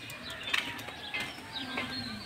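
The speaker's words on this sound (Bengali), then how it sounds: "পাখিটা কিন্তু একদম রাগ করতেছে আর আমাদের সাথে কথা বলতেছে" A pet bird calls indoors in short, faint chirping and cooing notes, several brief calls spread over a couple of seconds against a quiet room background.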